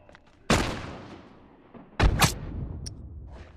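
Grenade explosion in a video game: two heavy booming blasts about one and a half seconds apart, loud and near, each fading into a rumbling tail.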